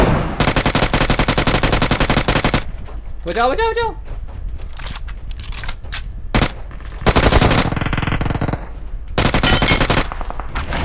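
Automatic weapon fire in the PUBG Mobile video game, with loud, rapid bursts of shots broken by short pauses and single cracks, while a player shouts and talks over the fighting.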